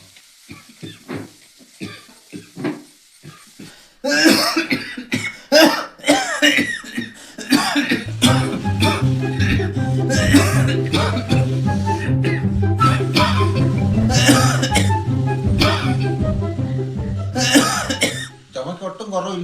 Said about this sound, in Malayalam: ചുമക്ക് ഒട്ടും കുറവില്ലേ?